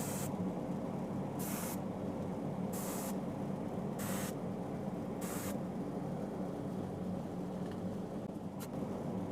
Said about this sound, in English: I'm just going to spray it through a stencil.